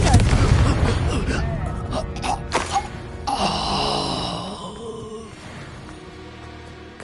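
Confringo fire spell in Hogwarts Legacy, a loud burst of booming impact and crackling blast from a fire spell, preceded by a shouted spell name and fading into a lingering rumble.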